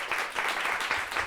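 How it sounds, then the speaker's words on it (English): Round of applause at a retrofit housing talk in Bristol, a short steady wash of clapping from the audience, fairly soft and continuous with no speech over it. "Ooh, round of applause."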